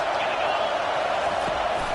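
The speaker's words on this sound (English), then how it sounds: "This crowd trying to make life miserable for this offense." Stadium crowd roaring in the College Football 25 video game, a loud, steady wash of massed voices in a Miami at Florida State matchup, continuous and unbroken.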